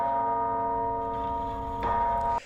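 A sustained bell tone from a song rings steadily with layered harmonic overtones, swelling slightly near the end before cutting off abruptly.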